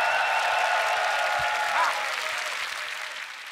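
A beatbox battle crowd applauds and cheers steadily after a producer showcase performance, a dense wash of clapping that slowly fades toward the end.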